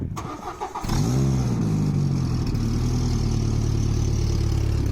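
A car engine cranks briefly, then catches and starts, settling into a loud, steady idle close by.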